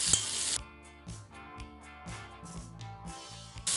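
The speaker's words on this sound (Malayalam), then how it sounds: "നമുക്ക് ഇതിലോട്ട് പീച്ചിങ് ഇട്ട് കൊടുക്കാം." Ridge gourd is stir-fried in a pan, with bursts of sizzling and clinking stirring over a quiet bed of music-like tones, close and moderately soft.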